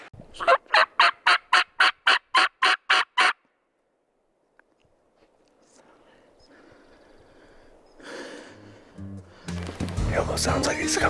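Wild turkey gobbling on an Idaho mountain: a rapid series of about ten loud, close gobble pulses, then quiet, followed by faint rustling and people talking.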